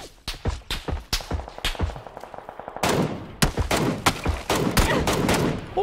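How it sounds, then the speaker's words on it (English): Gunfire in the PUBG battle royale video game: sharp single shots, then rapid automatic bursts, loud and close, with overlapping cracks in the second half. "Oh, that was a nice shot."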